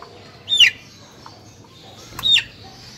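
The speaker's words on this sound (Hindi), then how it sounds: "वो मुर्गी अंदर बंद की हुई है तो ये शोर कर रहा है" Two short, sharp calls from a Shamo chicken, spaced about two seconds apart against a quiet background.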